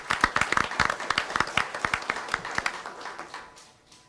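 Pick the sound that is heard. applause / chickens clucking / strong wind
applause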